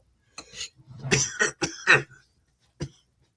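A burst of harsh coughs in quick succession, then a short pause and one last lone cough, close and fairly loud.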